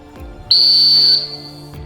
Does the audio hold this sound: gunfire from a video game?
no